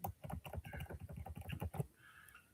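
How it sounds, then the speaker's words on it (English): Rapid keystrokes on a computer keyboard, close and fairly quiet, run in a quick irregular burst and then stop, leaving faint room noise; no talking. "Let me try to type this."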